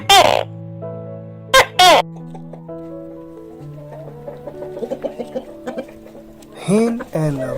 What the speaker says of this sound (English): hen and rooster,